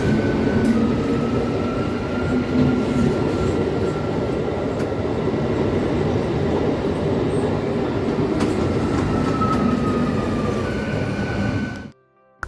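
A long-distance train from Kathgodam pulls into Howrah station in Kolkata with a steady, close rumble of wheels on rails, faint clicking over joints and occasional thin squeals, before the sound drops away sharply at the end.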